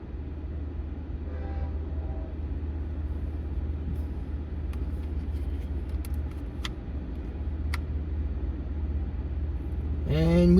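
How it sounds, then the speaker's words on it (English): LIRR train 78, a three-car scoot between Babylon and Patchogue led by DM30AC locomotive 510, approaches with a steady low diesel rumble that grows louder, squealing brakes rising sharply at the end. "here comes train 78, the scoot between Babylon and Patchogue"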